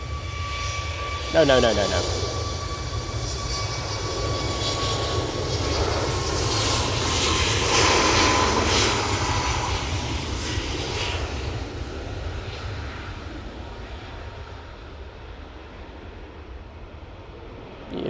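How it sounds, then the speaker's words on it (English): A TUI airliner returning from Cancun lands at Manchester Airport, its broad engine roar swelling and holding steady before slowly fading, with people talking over it. "Beautiful landing there from the Tui"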